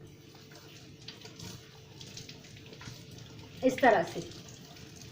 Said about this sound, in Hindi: एक सिरे से पानी जा रहा है और दूसरे से निकल रहा है